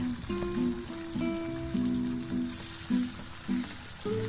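Battered salted beef slices fry over medium heat in a moderate amount of oil, a steady close sizzle running underneath a sustained tonal melody.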